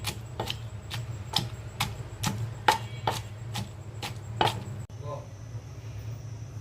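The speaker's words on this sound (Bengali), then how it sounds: "চিংড়ি মাছের ভর্তাটা আমি সবসময় ছেঁচেই করি, আজকেও তাই।" Shrimp is pounded by hand for Bengali shrimp bhorta in a rapid, regular series of sharp knocks, close and distinct, that stops abruptly near the end.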